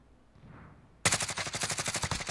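Rapid automatic gunfire in the video game Warzone bursts out suddenly after a quiet start, a steady rattling stream of shots, loud and close with no voices.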